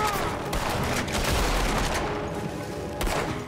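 Gunfire in Red Dead Redemption 2, dense and continuous with rapid overlapping shots and a low rumble beneath, moderately loud and sustained throughout, with a few sharper cracks standing out.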